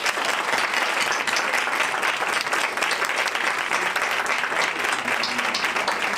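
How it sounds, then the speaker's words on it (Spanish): A seminar audience claps steadily and densely for about six seconds, a full room of applause with no voices over it. "Pues un fuerte aplauso."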